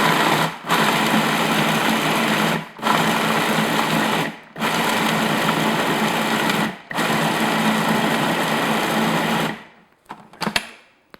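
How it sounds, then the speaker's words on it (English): A food processor purees a fruit and nut mixture in a loud, steady motor whir, run as four long pulses with short gaps before it stops and rattles briefly. "I'm just going to puree until it starts clumping together."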